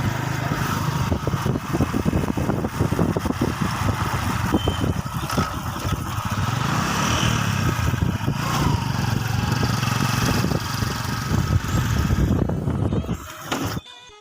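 A motorcycle engine drones steadily during a ride, with a constant rumble and wind throughout, loud and close, fading out near the end.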